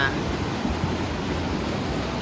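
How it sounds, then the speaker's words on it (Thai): Water pours steadily over a weir at Nop Khao Turk in Nakhon Si Thammarat, a constant broadband rush with no breaks, moderately loud and close. "คลื่นน้ำที่ไหลลงมานะฮะ"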